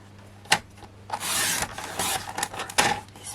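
A paper trimmer slices the border off a craft card, with a sharp click as the arm is set, then raspy sliding cuts in several quick strokes and another knock near the end.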